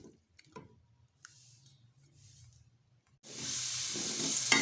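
Spices, turmeric and three small tomatoes fry in a pan for dhaba-style moong daal. Faint low stirring noises come first, then a loud, steady sizzle and hiss starts about three seconds in and carries on without a break.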